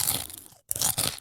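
Loud, close crunching from biting into something crisp, a couple of dense bursts split by a brief silent gap, with no talking.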